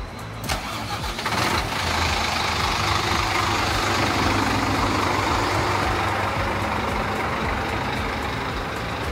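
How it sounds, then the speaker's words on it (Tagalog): A Scania bus engine with a Marco Polo body, run by P&O Transport in the Philippines, idles with a steady, loud mid-pitched rumble throughout. A brief rise at the start settles into an even drone. "Pakinggan natin ang makina."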